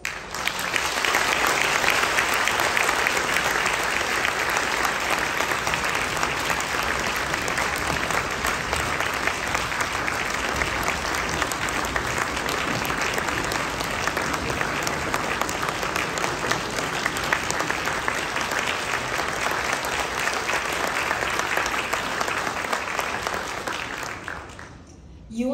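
An audience gives sustained, loud applause for a choir at the World Choir Games, a dense, steady wash of clapping filling a hall for about twenty-five seconds before fading at the end.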